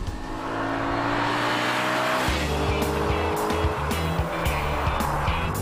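Audi RS4 with a 4.2-litre V8 roaring hard under acceleration, its loud engine note climbing and shifting as the car drives close by, with some tire noise.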